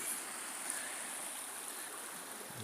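Steady, soft rush of a river flowing beside the ruins of an abandoned mill near Stanbury, England, with no voices.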